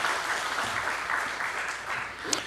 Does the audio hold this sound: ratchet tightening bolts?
no